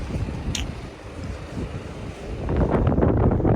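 Gusty, cold winter wind buffets the microphone with low rumbling roars on a snow-covered road, rising stronger toward the end; no speech is heard.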